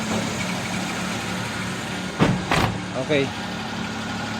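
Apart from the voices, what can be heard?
Suzuki Multicab engine running after carburetor repair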